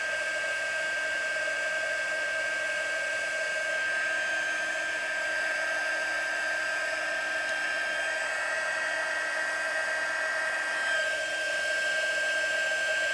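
A heat gun blows hot air for heat embossing a handmade card, a loud, steady whirring hiss with a high whine that runs unbroken for over ten seconds.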